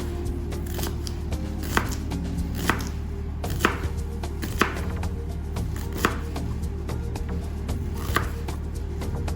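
A knife chops onion on a cutting board for a peppered snail sauce, sharp regular thuds about once a second, close and clear over a steady background hum.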